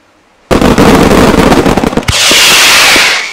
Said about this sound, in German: Dann haben wir einen Feuertopf mit Gold.